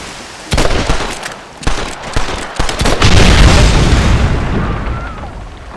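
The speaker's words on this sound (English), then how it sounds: "Here's the sound of our dynamite!" In-game dynamite blasts from Red Dead Redemption: several sharp booms strike in quick succession, with a heavier, sustained rumbling explosion rolling out over the second half, loud and close amid gunfire-like cracks.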